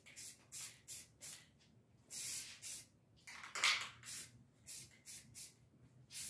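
Spray paint hisses onto an electric guitar body in a light sealing coat, heard as a rapid series of short, close, fairly loud bursts with brief pauses between them.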